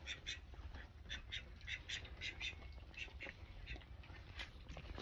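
Call ducks kept for laying eggs quack in repeated short bursts, a lively chorus of small ducks nearby with a steady low background rumble and occasional faint voices.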